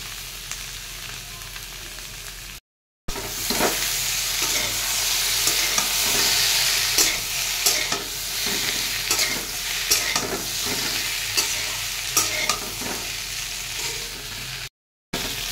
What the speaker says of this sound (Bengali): তরকারিগুলো খুব সুন্দর ভাজানো হয়ে গিয়েছে